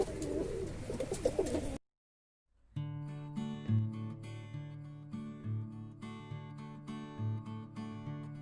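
Giribaz pigeons in a loft coo in soft, repeated low calls that recur every couple of seconds, following a brief burst of noise and a moment of silence.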